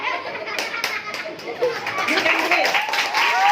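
Students in a school classroom clap together in a lively burst of scattered hand claps, with children's excited chatter and a teacher's encouraging voice mixed in throughout.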